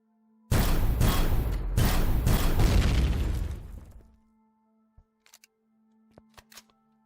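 A turret opening fire inside a Zirax comm array and radar station in Empyrion Galactic Survival, a loud burst of rapid blasts lasting a few seconds that cuts off, followed by a few faint, scattered clicks.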